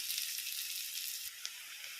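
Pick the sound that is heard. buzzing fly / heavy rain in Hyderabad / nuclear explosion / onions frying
onions frying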